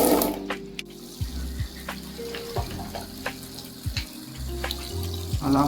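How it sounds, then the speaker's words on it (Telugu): Hot water runs from a tap into a bucket for soaking shoes, a steady splashing flow throughout with some faint clatter and low hum, no talking. "హాట్ వాటర్ ఆన్ చేయడం"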